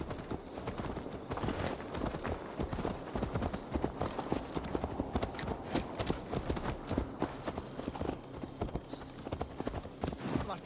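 Horse hooves clip-clopping in the video game Assassin's Creed Valhalla, a steady rapid patter throughout, heard under ongoing character dialogue and game ambience.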